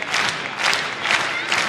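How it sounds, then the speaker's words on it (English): A wrestling arena crowd in San Diego roars before a Ring of Honor women's title match, swelling in repeated waves of cheering and yelling with no clear voice standing out. "the crowd coming alive here"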